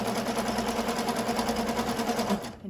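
An older hand-threaded domestic sewing machine running steadily, a close, continuous rapid mechanical whir with an even stitching pulse that stops abruptly near the end, no talk.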